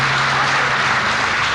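At a Hindi poetry gathering, the crowd breaks into thick, continuous applause to welcome a poet back, a steady wash of clapping over a low hum.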